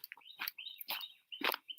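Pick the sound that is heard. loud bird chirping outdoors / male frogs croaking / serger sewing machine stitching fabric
loud bird chirping outdoors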